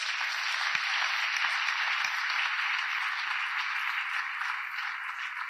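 Applause from a theatre audience for the theatre's director at an evening of support for a writer, a steady dense wash of clapping held at even loudness throughout, with no talk over it.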